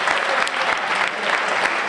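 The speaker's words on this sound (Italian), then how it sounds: "Un applauso." An audience at the Gallo d'Oro competition claps enthusiastically, a dense, steady wave of applause from a crowd, close and loud throughout.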